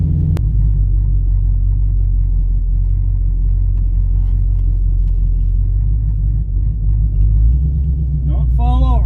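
A car engine is raised to about 2,500 RPM and holds there as a loud, deep, steady rumble close by. A voice speaks briefly over the engine, and the revs lift slightly near the end.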